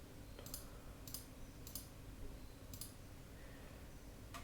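A computer mouse clicks while shapes are selected in CAD software, four or five sharp, evenly spaced clicks over a low steady hum.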